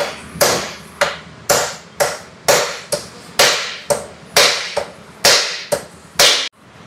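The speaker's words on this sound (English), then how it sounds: "You can use the old ring to hammer it down" Repeated sharp metallic hammer strikes driving a bearing race into a Mahindra Mojo 300 motorcycle using the old ring, about thirteen blows at a steady pace, each ringing briefly before the next; close and loud with no talking.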